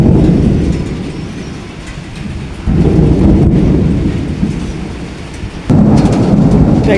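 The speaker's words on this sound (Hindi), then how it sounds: "बड़ी गरज चमक के साथ बारिश हो रही है जी आज।" Heavy rain pours with rolling thunder on a rainy day in Malaysia, a loud continuous roar that swells in two sudden surges, with no talk.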